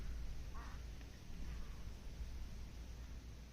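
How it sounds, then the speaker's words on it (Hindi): Crows calling in the quiet Solang Valley, a faint distant caw or two early on over a hushed outdoor background, with no voices. "कौवे चहचहा रहे हैं।"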